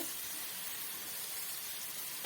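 Small potatoes frying in oil in a pan, a steady soft hiss and sizzle throughout, with a brief sharp clatter near the end.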